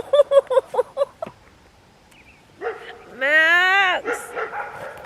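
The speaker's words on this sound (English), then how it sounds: "Is that dog stressing you out?" A dog barks in a quick burst of sharp yips, then after a pause lets out a long, rising and falling whine, followed by softer whimpers, all loud and close.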